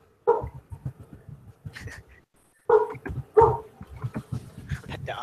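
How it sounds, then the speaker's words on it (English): A dog barks in short bursts, mixed in with and partly under nearby conversation, with repeated yips spread across the moment. "A dog."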